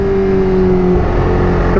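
A Kawasaki Ninja H2 motorcycle accelerates hard with the throttle opened in second gear, a loud continuous engine roar with a steady whining tone carrying through the whole stretch, close and without talk.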